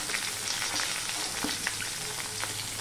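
Onions fry in oil in a pan for Afghani egg curry, giving a steady close sizzle with scattered light crackles and pops and faint stirring, no voices present.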